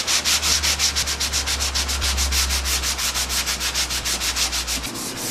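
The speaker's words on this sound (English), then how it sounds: "Alright, we're going to sand this down smooth" Rhythmic back-and-forth scratching of sandpaper by hand on a repaired Marvin Integrity Ultrex window frame, steady close strokes at an even quick pace with a low hum beneath.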